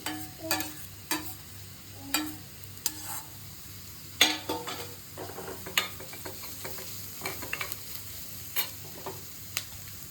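Steamed broccoli being stir-fried in a pan for white sauce pasta: a steady sizzle with repeated sharp scraping clicks of a spatula against the pan, fairly close and with no talk.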